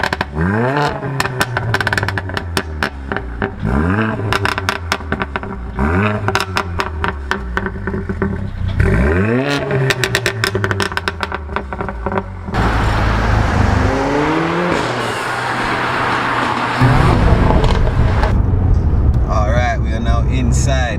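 A 430 bhp Mercedes CLA45 AMG driven on the road, its engine rising and falling through repeated revving gear pulls with sharp upshifts, then a steadier rougher drone, loud and close, with a voice talking over it.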